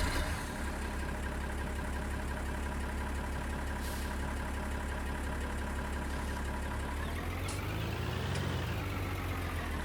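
Tractor engine idling in Farming Simulator 19 with the Alpine DLC, a steady low diesel rumble held throughout, with a slight rise and dip in pitch near the end.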